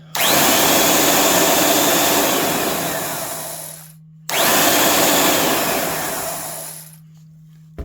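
A Porter-Cable 504 worm/chain drive belt sander runs loud and steady in two long bursts, each winding down before a brief pause and restart, with no talk over it.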